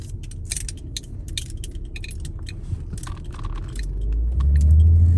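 A car drives along with a low, steady engine and road rumble that swells louder toward the end. Light jangling and clicking rattles sound close by inside the vehicle.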